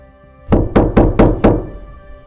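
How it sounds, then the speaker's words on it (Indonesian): Five firm knocks on a wooden door sound in a quick, even series, close and loud, in an otherwise quiet night-time room. "Tiba-tiba suara pintu diketuk."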